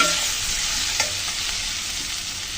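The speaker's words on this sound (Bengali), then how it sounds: "আলু দিয়ে চিংড়ি মাছের সাথে ভালো করে ভেজে নিলাম।" Prawns and potato pieces fry together in a hot pan, giving a steady, close sizzle throughout, with a few soft stirring scrapes and no voices.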